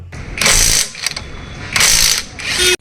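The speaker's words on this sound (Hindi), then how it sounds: "ये देखिए मैं नट खोलना स्टार्ट कर रहा हूं।" A PUMPKIN 1/2-inch cordless electric impact wrench loosens wheel nuts in two loud, rattling hammering bursts separated by a short pause, very close and harsh, with no talking.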